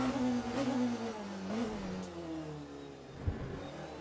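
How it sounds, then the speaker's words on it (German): Porsche race car engine in the video game Le Mans Ultimate, a steady mid-pitched drone that sags slightly in revs over the stretch, with a brief thump near the end, fairly loud and alone. "Bei mir ist der Motor eigentlich ein bisschen zu laut."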